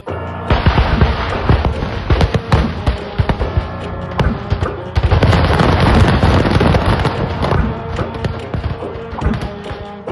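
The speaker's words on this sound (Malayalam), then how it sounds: "മുണ്ടത്തിക്കോട് വെടിക്കെട്ട് പുരയിൽ നിന്നും ഉയർന്ന ആ സ്ഫോടനം" Fireworks blasting at the Mundathikode fireworks storage shed: a loud, dense barrage of overlapping cracks and booms that fills the whole stretch, with a brief lull before a second heavy wave of crackling explosions.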